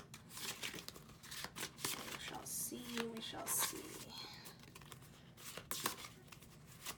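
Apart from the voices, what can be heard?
shuffling tarot cards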